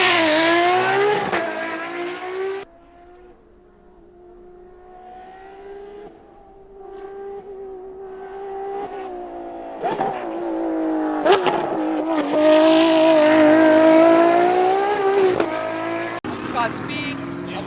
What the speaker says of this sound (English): I'm driving this Ferrari